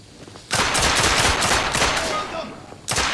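Rapid automatic gunfire bursts out in The Order: 1886 video game, a loud, dense rattle of shots that begins abruptly, keeps going for a few seconds, and then starts again briefly after a short pause.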